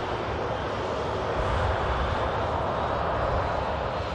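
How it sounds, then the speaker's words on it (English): A Ryanair airliner arriving at Manchester Airport from Dublin gives a steady, broad engine roar that holds at an even, fairly loud level throughout, with no talk over it. "Ryanair just arriving in from Dublin."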